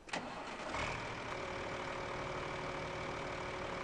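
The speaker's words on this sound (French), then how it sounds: "au démarrage du bruit du moteur, on entend bien que c'est une vieille moissonneuse batteuse" Old Niva combine harvester engine in a farming video game cranks and catches, then settles into a steady, even idle drone that continues quietly to the end.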